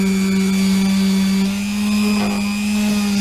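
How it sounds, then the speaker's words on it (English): Power sander working the rounded edges of a wooden home-built arcade cabinet, a steady loud motor hum with a strong low drone and high whine, running continuously without pause. "So here I am sanding, and I'm just going to sand the edges and make it nice and round and oval"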